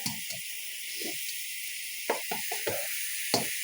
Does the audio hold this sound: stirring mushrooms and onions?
yes